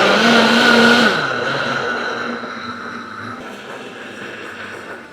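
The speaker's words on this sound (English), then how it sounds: "you put it on your stand, and you'll mix for about 30 seconds to a minute" A stand mixer runs loud and whirring on batter for a Dutch baby, its steady motor drone dropping to a lower, quieter pitch after about a second and continuing evenly to the end.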